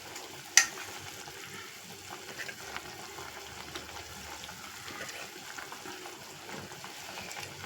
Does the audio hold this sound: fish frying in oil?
yes